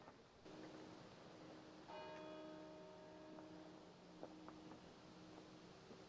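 Church bells ring near the Avebury stone circle with a clear, resonant peal and several overlapping strikes that ring on, faint and at a distance, over quiet outdoor background.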